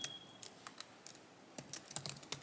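Quiet typing on a computer keyboard, a quick irregular run of soft key taps that gets a little busier toward the end, with no voice over it.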